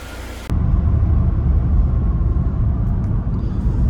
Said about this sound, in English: the BMW's running like a champ, no longer leaking